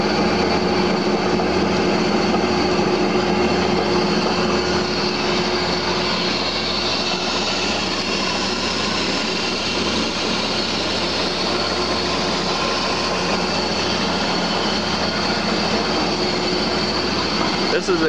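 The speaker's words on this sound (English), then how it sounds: "This is the machine running. Run nice and quiet." A Clipper velvet roll mill runs with a steady, dense mechanical whir and hum, an even broadband drone that stays constant throughout.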